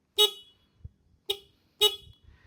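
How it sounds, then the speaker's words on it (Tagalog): Three short, loud honks from a CFMOTO 150 Aura motorcycle horn, up close, separated by roughly one-second gaps, with faint mechanical clicks between them. "So, sa busina, malakas yung busina niya in fairness sa first stock."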